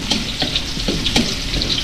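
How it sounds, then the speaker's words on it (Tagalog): Garlic sizzles steadily in a hot pan while being sautéed, a close, even frying hiss with occasional light stirring scrapes, no speech over it. "Tapos gisa na po natin yung ating bawang tsaka sibuyas."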